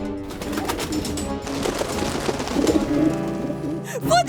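Pigeons coo in low, repeated throaty calls in an animated cartoon, over a dense, busy background, with a brief quieter gap near the end.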